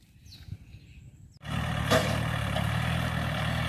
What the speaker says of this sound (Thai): รถไถก็เริ่มมาแล้วนะครับ รถไถเริ่มไถแล้ว